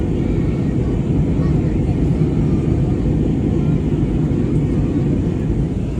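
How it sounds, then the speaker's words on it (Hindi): Inside a Jetstar passenger airplane in flight between New Zealand and Australia, the cabin fills with a loud, steady engine and airflow roar that stays constant throughout. "ये हमारी जेट स्टार की फ़्लाइट"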